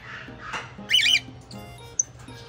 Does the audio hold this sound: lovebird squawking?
yes